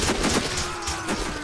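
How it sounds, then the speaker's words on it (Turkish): Rapid burst of sniper rifle gunfire in the video game Sniper Ghost Warrior, loud, dense cracks over a short span with a faint voice underneath. "Rastgele sıktım adamı, nasıl vurdu?"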